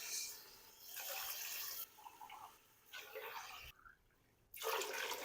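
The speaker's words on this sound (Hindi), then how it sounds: "अब मैंने मटरों को गलाना है तो इसके लिए मैं इसमें पानी डाल दूंगा।" Water from a mug is poured in bursts into a pot of peas for matar biryani, a splashing rush that stops and starts again several times.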